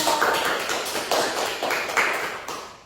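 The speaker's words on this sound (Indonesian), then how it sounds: "Beri aplaus untuk kelompok 2." A class of school students claps for a student group, a brief burst of close, lively applause lasting a few seconds.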